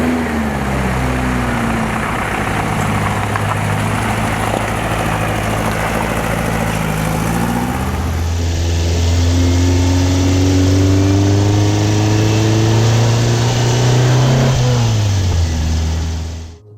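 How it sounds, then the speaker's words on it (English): A 1975 Volkswagen Beetle 1200 air-cooled engine with a custom exhaust runs steadily and loudly, holding a low drone that shifts pitch midway and climbs gently before easing off near the end, with no voices. "When the engine's heated up and you're driving along, you get a nice little pop and a bit raspy"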